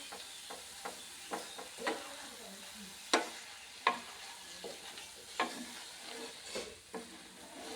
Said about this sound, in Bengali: যতক্ষণ আঠালো ভাব আসেনি ততক্ষণ পর্যন্ত নেড়ে নিতে হবে।